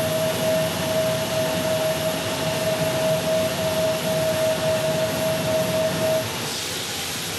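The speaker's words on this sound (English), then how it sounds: "as we get an A321neo landing here" Airbus A321neo jet landing, a steady loud broadband engine roar with a sustained whine that holds for about six seconds before easing off near the end.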